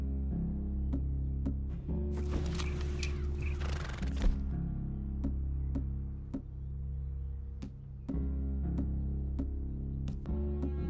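In Red Dead Redemption 2, a horse whinnies amid a low steady drone, joined by sharp clicks and taps that could be hooves, with no speech.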